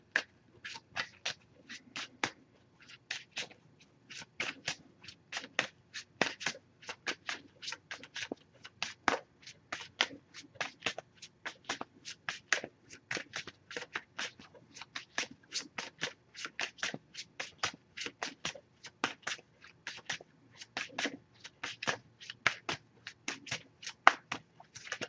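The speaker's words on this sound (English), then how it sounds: "Just going to pull a single card from this deck." An oracle card deck being shuffled by hand: a steady run of quick, crisp card riffles and flicks, close and fairly quiet, repeating for the whole stretch with no talk.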